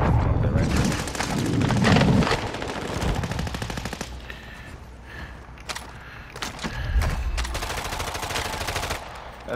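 Enemy gunshots in a video game rattle off in rapid automatic bursts with heavy booming impacts, loud and continuous across the stretch, with players talking faintly underneath.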